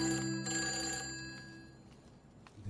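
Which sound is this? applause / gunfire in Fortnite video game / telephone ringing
telephone ringing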